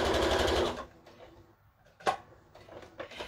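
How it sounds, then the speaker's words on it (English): Sewing machine stitching fabric for a crown, with a loud burst of steady running stitches at the start, then quiet with a few faint clicks and handling sounds. "You just keep sewing, keep sewing."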